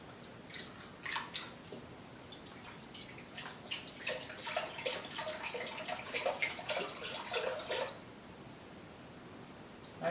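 Beef broth pours and splashes into a Dutch oven in uneven gurgling bursts, close by and moderately loud, then stops; no talking.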